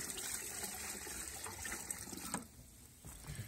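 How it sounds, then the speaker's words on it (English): Water poured for rinsing laundry by hand in an off-grid setting, a steady broadband gush and splash lasting the whole span, close and fairly loud, with a brief dip and a lighter trickle near the end. "what is this water for? That's my rinse water."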